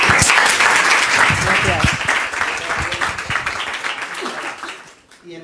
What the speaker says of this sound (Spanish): yo creo que le damos un aplauso